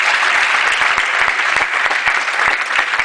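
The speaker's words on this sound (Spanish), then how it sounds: "Si va a aplaudir, aplauda fuerte" A church congregation applauds loudly, a dense continuous wash of many hands clapping at once, steady and close throughout.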